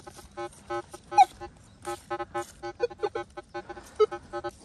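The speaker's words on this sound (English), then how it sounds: "as soon as I get down to the ground, you'll hear there's a lot of noise, a lot of feedback" A Minelab Manticore metal detector held close to the ground gives off a busy run of electronic tones and feedback, warbling and pulsing unevenly at moderate level with no talk.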